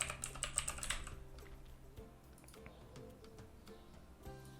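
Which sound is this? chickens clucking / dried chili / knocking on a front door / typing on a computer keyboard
typing on a computer keyboard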